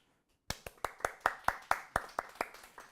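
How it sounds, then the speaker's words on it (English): A small group at a Melbourne CocoaHeads developer meetup applauds sponsors, about ten sharp, distinct claps in a slightly irregular rhythm after a brief silence, close and clear with no talking. "Give them a round of applause"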